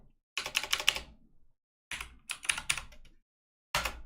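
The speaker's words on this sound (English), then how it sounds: "This is a very loud keyboard." Rapid clacking on a loud computer keyboard comes in three close bursts of quick keystrokes, each separated by a moment of silence, with no voice.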